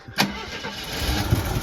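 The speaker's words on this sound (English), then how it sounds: "It fires right up off of the old fuel." An AMC Eagle engine cranks briefly and fires up on old fuel, settling straight into a steady idle, close and loud with no talking.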